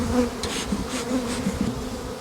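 A steady, dense buzzing of many honeybees around an open hive, close and continuous, with a droning hum that rises and falls slightly throughout.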